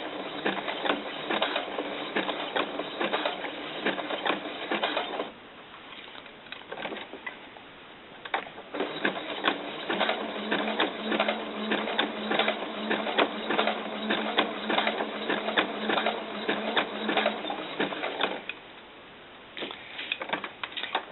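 A sewing machine stitches doll underwear fabric in a rapid, steady mechanical patter that pauses briefly twice and then starts again, heard up close and alone.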